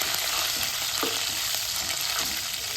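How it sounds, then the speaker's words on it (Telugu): Curry leaves sizzle and crackle in hot oil in a pan while cooking a cauliflower evening snack, with a loud, continuous close-up fry and occasional stirring clinks. "ఫ్రెండ్స్ కొద్దిగా కరేపాకు వేయించుకుందాం"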